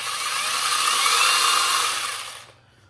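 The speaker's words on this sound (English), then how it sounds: "push that button and then pull the saw trigger" A battery-powered cordless pole saw runs at a steady high-pitched whine for a couple of seconds, close and loud, then winds down abruptly to quiet.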